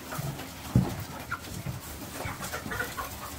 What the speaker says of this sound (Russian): Тут одни петухи.